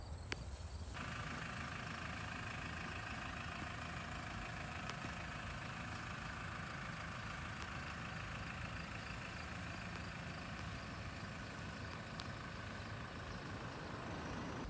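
A tractor engine pulling a New Holland Discbine mower idles with a steady low rumble, constant and moderately distant, with no talking.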